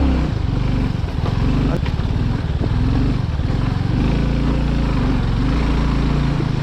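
A motorcycle engine drones steadily and loudly while riding an extreme rough off-road track on a landslide-damaged road, with a voice talking over the engine noise.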